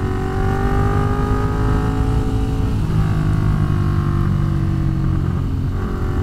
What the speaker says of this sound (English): And that gives me a lot more exhaust note.